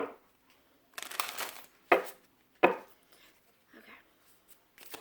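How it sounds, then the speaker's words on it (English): Oracle cards are shuffled in a few quick, crisp bursts of papery riffling and tapping, close and fairly quiet, separated by short pauses. "One more shuffle."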